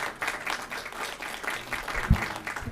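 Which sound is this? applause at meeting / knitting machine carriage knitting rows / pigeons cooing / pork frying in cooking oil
applause at meeting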